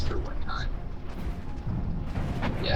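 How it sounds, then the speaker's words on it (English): Advanced fast-firing cannons blast from a warship in the naval combat game From the Depths, a dense run of booming shots and rumbling explosions filling the whole stretch at close, loud range. "They're just fast firing cannons."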